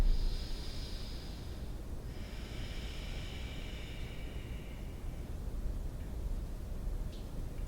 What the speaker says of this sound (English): Take a couple breaths here.